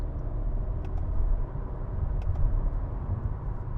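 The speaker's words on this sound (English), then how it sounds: "1500 RPMs in third gear. Let's give it some throttle. It picks up pretty good." Engine of a 2024 Volkswagen Caddy Cargo van accelerating in third gear from about 1500 RPM, a steady low rumble heard from inside the cabin with a few faint clicks, no talking.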